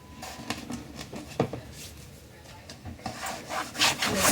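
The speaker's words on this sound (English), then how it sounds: "I'm gonna rub them strings of glue off." Dried strings of glue are rubbed off craft gift packaging, making close scratchy rubbing strokes in an uneven rhythm, briefly louder near the end.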